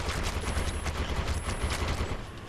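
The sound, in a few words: shotgun and machine gun fire in the video game Defiance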